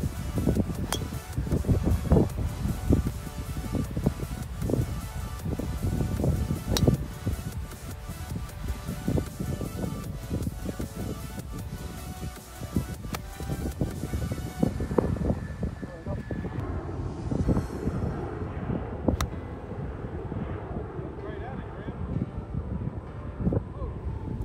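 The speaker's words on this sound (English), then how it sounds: "Wind's whipping off probably 30 miles an hour or something." Strong wind gusts at about 30 miles an hour across a seaside golf course at Al Mouj, Muscat, Oman, buffeting the microphone in heavy rumbling bursts, with people talking intermittently over it.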